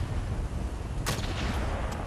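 A single sharp gunshot scoring a headshot in the Battlefield Play4Free video game cracks out about halfway through, over a dense, constant game noise bed.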